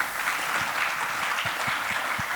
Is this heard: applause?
yes